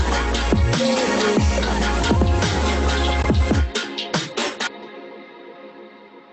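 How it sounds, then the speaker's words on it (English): A punchy drum groove processed through EQ and a limiter, with heavy kicks and bright snare hits, plays loudly, then thins out to a few cymbal strikes that ring and fade. "And so the drums going through all this sounds like this."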